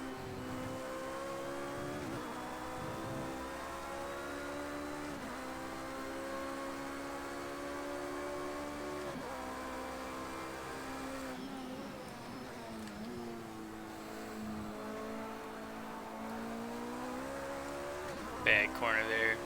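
Race car engines roar at close range in Project Cars 2, with Ferraris and a BMW running in a row. A steady high drone climbs and drops through repeated gear shifts, and someone talks over it.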